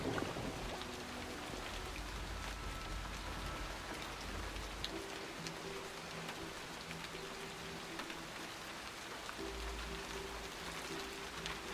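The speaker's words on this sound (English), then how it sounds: "Hopefully it's going to stop raining." Steady rain in the World War One strategy game War Hospital, a constant hiss of falling drops with faint low tones underneath, no talking.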